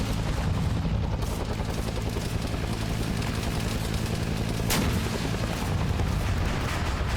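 Rapid blind-fire gunshots from a Vietnam War multiplayer video game ring out continuously over a dense battlefield din, with one sharper crack standing out near the end.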